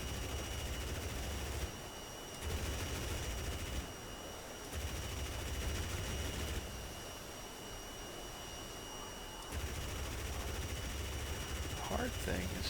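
Twin cannons of a MiG-15bis firing in the DCS World flight simulator, several sustained bursts of rapid gunfire separated by short pauses over a steady jet engine drone, fairly faint, with someone talking.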